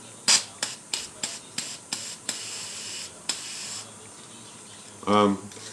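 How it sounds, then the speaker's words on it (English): WD-40 sprays from a rechargeable spray can in a series of short hissing bursts, about nine in quick rhythm, followed by one longer spray, close and clear; a brief voice is heard near the end. "I don't care as long as the stuff sprays out."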